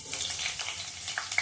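Finely chopped potato frying in oil for sabudana khichdi gives a short burst of soft, steady sizzle with a few light crackles, close and without any talk.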